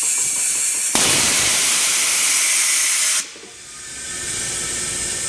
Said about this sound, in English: Now there's going to be a big blast of air